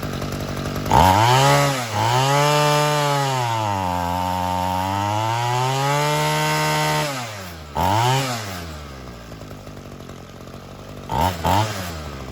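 Homelite UT32650 string trimmer with a new replacement carburetor, its small two-stroke engine revving hard: loud, close, rising and falling in pitch over several seconds, then short blips of throttle near the end.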